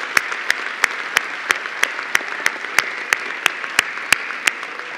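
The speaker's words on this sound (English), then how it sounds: "let's give them a round of applause to recognize their commitment and dedication to you" An audience at a college winter convocation applauds. Steady crowd clapping runs throughout, punctuated by sharp, evenly spaced individual claps in a regular beat.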